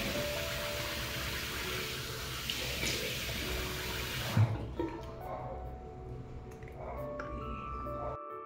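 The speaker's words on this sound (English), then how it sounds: "I washed my face with it." Tap water runs steadily into a sink while someone washes their face. The flow is loud and close for about four seconds, then cuts off, leaving quiet room tone with a few faint drips and small sounds.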